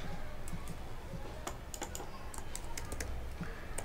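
Typing on a computer keyboard while coding an e-commerce site in PHP, with a steady run of light, close key clicks and taps over a low room hum, no talk.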